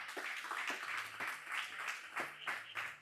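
A church congregation claps hands in a quick, regular rhythm, a faint, roomy patter of many palms with a voice faintly beneath.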